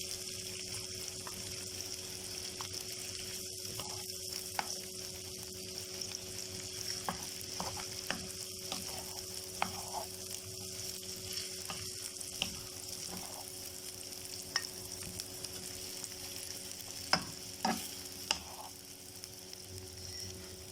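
Sausages frying in oil make a steady, quiet sizzle that holds throughout, with occasional small pops and light utensil taps rising above the hiss.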